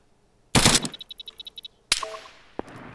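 Gunfire in the ARMA 3 video game: a loud burst of shots followed by a rapid run of about ten evenly spaced pops, then another sharp blast and a lone later crack, with no talking.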